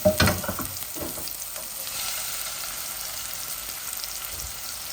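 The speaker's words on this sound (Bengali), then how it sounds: "নতুন হান্ডির মাঝে পেঁয়াজ জ্বালাই কিছুটা রসুন জ্বালাই দিছি" Onion and garlic frying in a new pot, with a short clatter at the start followed by an even, steady sizzle that holds close and unbroken.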